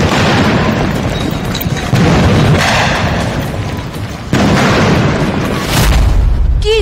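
Gunfire and explosions amid violence in Imphal, Manipur, loud booming blasts and bursts that sound continuously, with abrupt jumps between different stretches of the scene.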